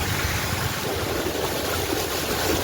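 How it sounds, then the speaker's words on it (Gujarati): A swollen river near Khilipur, Patan, rushes with a full, steady broadband roar of high water, constant and close, with no voices over it. "બહુ પાણી છે નદીમાં"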